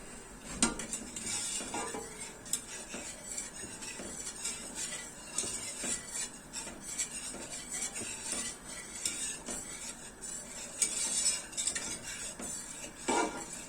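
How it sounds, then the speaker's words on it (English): A whisk beats and scrapes through a cheesy pasta mixture in a pot, giving busy metallic clinks and stirring noises that run steadily throughout at close range with no talking. "I think now I'll use the whisk instead of the spoon."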